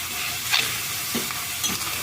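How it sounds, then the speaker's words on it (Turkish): Meat sears in a pan for a Turkish home meal, a steady loud sizzle and crackle with a few stirring scrapes on top, close and without voices. "Şimdi evet mühürlendi tavamız."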